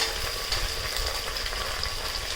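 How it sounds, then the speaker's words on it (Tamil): Chopped tomatoes sautéing in oil in a pan for a chicken and vegetable biryani, giving off a steady, close, even sizzle and crackle with no voices over it. "தக்காளியெலாம் நல்லா வதங்கிட்டு இருக்குங்க"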